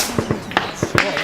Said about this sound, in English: we came under accurate sniper fire from the direction of the airport